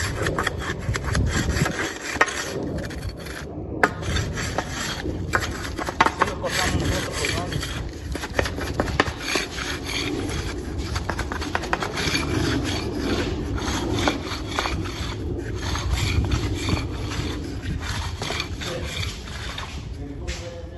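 Wooden boards for concrete driveway forms are cut at marked lines with long, rhythmic rasping saw strokes running steadily throughout, close by, with someone speaking at times over the cutting.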